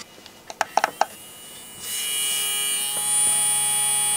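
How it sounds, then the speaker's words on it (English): The motor of a CEC TL5100 belt-drive CD transport spins up after a few mechanical clicks, settling into a steady close whirring hum that continues without change. "It sounds that the motor is spinning, but nothing is moving."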